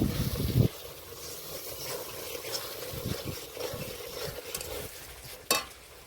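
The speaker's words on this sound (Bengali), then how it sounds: "এক চামচ হলুদ গুঁড়ো এবার ভালো করে কষে নেব" Young jackfruit and prawn curry being stir-fried with turmeric powder, with a spatula scraping and stirring through a steady, close sizzle, a loud clatter at the start and another sharp scrape near the end, no voices.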